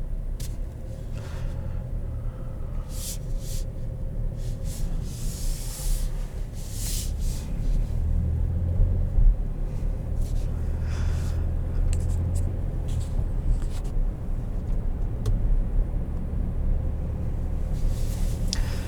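A 2021 Chevrolet Traverse Premier mid-size SUV driving, heard from inside the cabin as a steady low engine and road rumble with tire hiss, a continuous moderate drone and faint occasional clicks.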